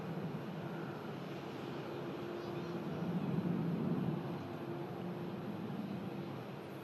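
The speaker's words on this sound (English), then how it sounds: "EasyJet just about to touch down then on 23 right" EasyJet airliner on final approach to runway 23 right at Manchester Airport, a faint, distant steady engine drone with a low hum that swells briefly in the middle.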